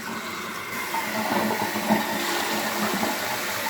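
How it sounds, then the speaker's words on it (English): A toilet tank is flushed, giving a steady, loud rush of draining water that carries on without a break for nearly four seconds, with no voices over it. "I'm going to flush the tank."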